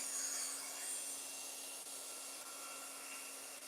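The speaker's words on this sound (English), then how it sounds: "Can you hear me talking while this drill is going?" A steady, high-pitched motor whine runs continuously at close range, the sound of a power drill held on without pause while restoring 2004 Yamaha R1 headlights.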